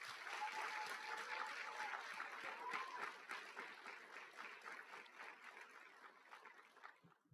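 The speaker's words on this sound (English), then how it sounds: "Let's give him another round of applause" Audience applause at a mayor's State of the City address in Rochester, a soft, distant patter of many hands clapping that gradually thins and fades away toward the end.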